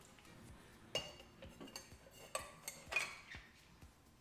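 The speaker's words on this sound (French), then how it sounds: "Je te laisse compléter avec les glaçons." Ice cubes dropped into a cocktail shaker, a handful of clinks and clattering knocks at uneven intervals, close and fairly soft, with no voices.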